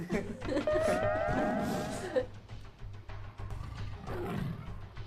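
A tiger roars in a film scene, a loud drawn-out growling roar in the first two seconds, then a shorter rumble near the end, with background film sound and some voice-like layering throughout.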